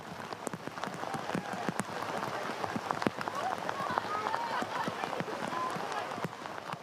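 Steady rain pours during a men's college soccer match between Siena and Syracuse, a dense hiss with scattered drop spatters throughout, heard from the broadcast position with a faint commentator voice underneath.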